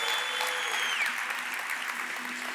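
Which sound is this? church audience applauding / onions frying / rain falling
church audience applauding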